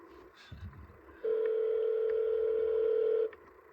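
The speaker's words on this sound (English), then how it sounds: "Phone's ringing." Telephone ringback on an outgoing call, heard as a single steady electronic ring tone about two seconds long after a brief quiet stretch with some faint rustling, clear and close.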